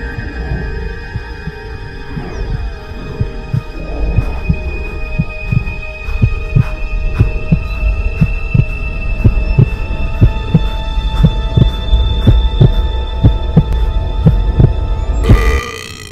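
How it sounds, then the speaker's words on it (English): A rapid heartbeat sound effect throbs in a steady, quick rhythm of low thumps under a droning hum, continuing loudly throughout with no talk. "I have a rapid heartbeat from indigestion."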